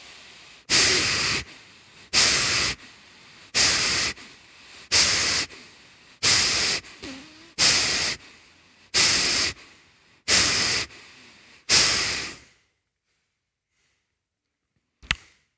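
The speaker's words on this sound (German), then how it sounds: "Und jetzt schnaufen wir mal einfach 10-mal durch die Nase." Forceful nasal breathing from a yoga breathing exercise: ten loud, rhythmic, hissing puffs through the nose at about one per second, followed by silence and a tiny click.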